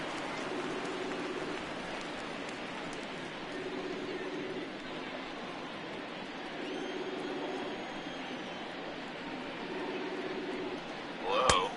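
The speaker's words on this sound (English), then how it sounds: "oh great, it's raining here" Rain falling steadily at a Cubs vs. Cardinals baseball game, a soft continuous hiss of drops in the background, with a faint repeating hum and a brief louder knock at the very end.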